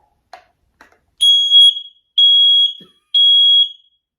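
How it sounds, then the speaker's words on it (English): A heat alarm sounds three loud, piercing beeps of about half a second each, evenly spaced, after two faint clicks, with nothing else heard. "Right, so that's the heat alarm."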